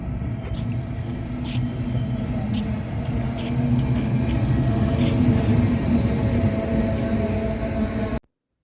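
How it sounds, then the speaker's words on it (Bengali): A train pulls into a station in Genoa, Italy, with a steady, fairly loud rumble that swells slightly midway and then cuts off abruptly. "কিছুক্ষণের মধ্যেই ট্রেন আসতেছে স্টেশনে"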